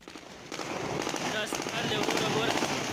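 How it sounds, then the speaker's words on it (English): Rapid crackling bursts of celebratory gunfire at an airport, marking the end of a 20-year war, echo in the distance, a continuous rattling volley with a voice talking faintly underneath. "That prompted celebratory gunfire at the airport to mark the ending of this bitter 20-year war."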